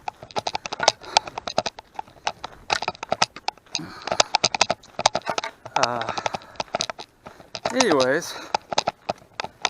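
Horse hooves clip-clop in a sharp, rapid rhythm on the Hunting Hollow trail, running steadily through the whole stretch while a hiker talks over them and a few whistle-like tones rise near the end.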